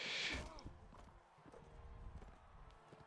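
Horse hooves clopping in the medieval combat game Mount and Blade Warband, a brief burst of galloping beats with a whinny, layered with clashing battle noise at fairly low level.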